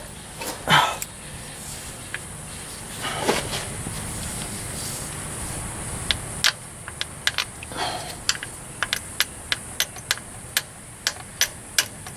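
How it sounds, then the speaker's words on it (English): A 1/4 inch ratchet used as a hammer taps at the front crankshaft seal area of a Toyota 22RE engine: about a dozen sharp, close metallic knocks in an uneven rhythm, mostly in the second half, after some softer handling noises. "Everybody uses a ratchet as a hammer, right?"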